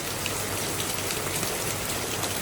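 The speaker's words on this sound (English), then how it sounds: "It's raining heavily." Heavy rain pours down steadily in Zanzibar, Tanzania, a dense, even hiss of drops on surfaces filling the whole scene with no voices.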